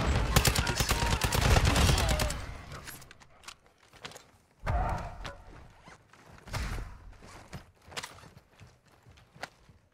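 Bursts of video game gunfire from a squad combat game, a dense loud volley in the first few seconds followed by scattered, sharper shots and impacts at mid distance.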